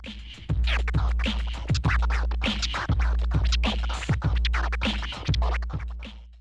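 Twoers version of the autobahn scratch on a DJ turntable: quick doubled record scratches cut rhythmically over a steady beat, close and prominent, with no voices.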